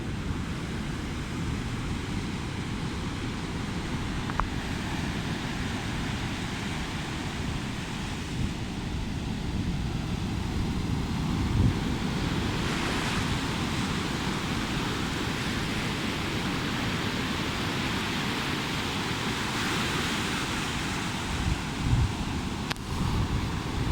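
Powerful, unusually violent Pacific Ocean surf roars steadily and close, a broad wash of crashing waves and hiss with wind buffeting the microphone, and no voices.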